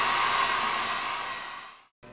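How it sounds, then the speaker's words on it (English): A hair dryer drying glaze on hand-rolled paper beads blows with a steady whooshing whir, then winds down and cuts off, followed by a brief click of sound. "you can take your hairdryer"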